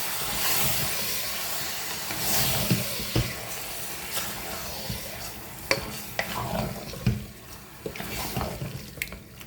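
Chicken curry being stirred in a pan, with spoon scrapes and wet churning of thick sauce over a steady low bubbling sizzle, moderately close and without talk.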